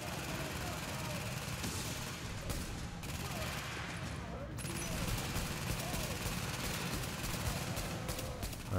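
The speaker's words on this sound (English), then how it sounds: "The only bad thing about this weapon is it shoots really slow." Gunfire comes from a slow-firing weapon in The Division video game, a dense stretch of repeated shots and bursts mixed with game noise, with a voice talking over it at times.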